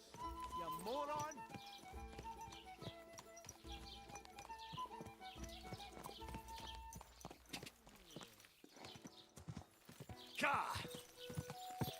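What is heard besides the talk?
horse hooves clip-clopping while riding, from video game Kingdom Come Deliverance II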